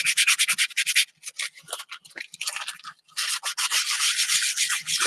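Repeated abrasive scraping across a faux leather surface, a coarse rubbing rasp in bursts with short pauses, close and fairly loud, catching on the raised parts of the material. Made while distressing a homemade faux leather patch for a journal cover.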